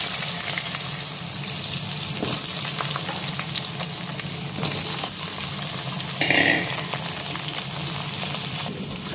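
Potatoes frying in hot oil with bay leaf, cumin and dried chilli, a steady, dense sizzle running throughout with occasional stirring scrapes and a brief higher clink partway through.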